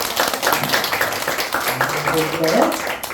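A church congregation claps briefly during a sermon, a ragged patter of hands mixed with voices in the hall.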